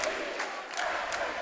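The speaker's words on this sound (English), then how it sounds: "there goes the Sacred Heart Prep crowd chanting away" Sacred Heart Prep fans chanting at a varsity boys' basketball game against Menlo, a muffled crowd roar with rhythmic bursts of shouting, fairly distant and faint.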